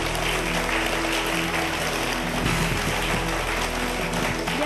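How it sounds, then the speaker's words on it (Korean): A studio audience at a math-magic lecture applauds to welcome the speaker, producing a steady, dense wash of clapping that holds at an even level throughout. "우리나라 제1호 수학교육마술사 박근영 대표님 박수로 맞이해 주세요."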